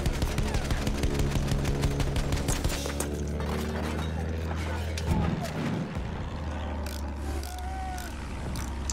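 Enemy soldiers fire steadily in the battle royale shooter Apex Legends, a continuous rattle of loud repeated shots under a humming game soundtrack, with a person talking over the action.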